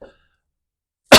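A single short, loud cough bursts out after near silence, close to the microphone during a lecture.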